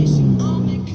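A Ferrari 488 GTB with a twin-turbo 3.9-litre V8 being driven, a steady low engine drone heard from inside the car for about a second.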